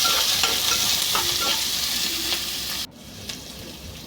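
Onions and chillies sizzle loudly in hot tempering oil with mustard seeds, cumin and urad dal, a steady close frying hiss with occasional stirring scrapes, briefly dipping near the end.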